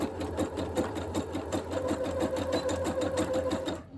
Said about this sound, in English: I guess I'm going to use a zigzag stitch.